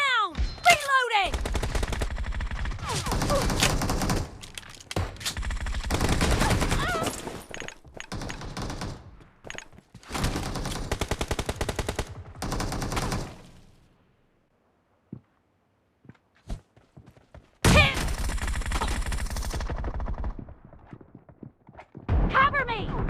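Double-barrel shotgun blasts and other gunfire ring out in a BGMI team deathmatch game, loud bursts mixed with in-game voice callouts, footsteps and brief quiet gaps.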